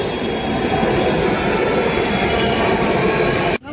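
A crowded metro train rolls along in steady motion, a dense continuous rumble and rattle of wheels and carriage close by, holding level throughout before cutting off abruptly at the end.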